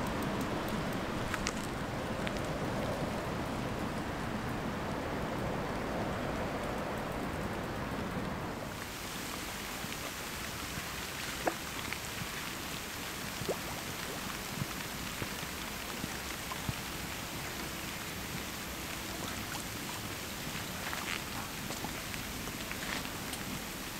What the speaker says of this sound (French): Vive la pluie.